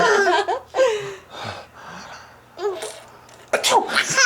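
A person fakes exaggerated 'achoo' sneezes with their voice while a small child answers with gasping giggles and squeals, the bursts trading back and forth up close.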